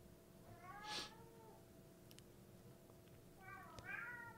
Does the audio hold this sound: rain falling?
no